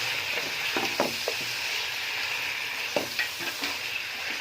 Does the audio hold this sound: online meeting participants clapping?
no